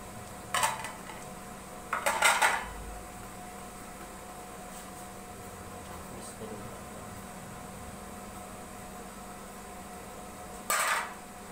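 Boiled potatoes go into a bowl while making raita, producing a few short clinks of utensils against dishware at separate moments against a quiet, steady kitchen hum.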